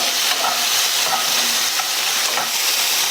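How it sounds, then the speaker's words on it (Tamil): Tomatoes sautéing with a little salt in a pan for a tomato pachadi, giving a steady, close sizzle with faint scraping stirs throughout and no talking. "இதில் கொஞ்சமாக உப்பு சேர்த்து இந்த தக்காளி எல்லாம் நல்லா சாஃப்ட் ஆகிற வரையும் வதக்கிக்கலாம்"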